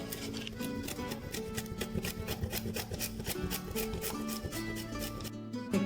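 Ginger grated by hand for a Kerala sadya dish, heard as a fast, steady rasping scrape repeated in even strokes, close and fairly quiet, with no voices.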